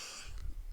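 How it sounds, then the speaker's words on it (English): A single short cough, quiet and close, with a faint throaty rasp, alone. "I'm coughing."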